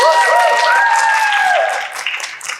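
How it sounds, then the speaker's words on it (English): Audience clapping at a senior voice recital, a steady burst of applause that thins out toward the end, with some sung or held tones lingering over it at first. "Give Karina many claps"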